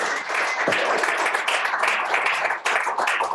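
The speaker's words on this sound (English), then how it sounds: "Round of applause for EQ Match." Audience applause after a business pitch at a community meeting, a dense, steady patter of many hands clapping continuously with no talk over it.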